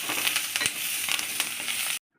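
Steady, close sizzling from a hot pan as capsicum is sautéed, with occasional stirring scrapes, ending abruptly.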